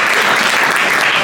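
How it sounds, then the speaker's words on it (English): A crowd at a boxing press conference applauds loudly and steadily, a dense, continuous wash of clapping with no talk over it. "I think that deserves a big round of applause,"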